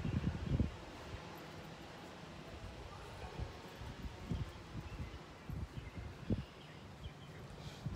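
Wind blows outdoors in a Michigan spring setting where geraniums are being painted, a steady low rush with soft gusty thumps buffeting the microphone, faint and continuous throughout.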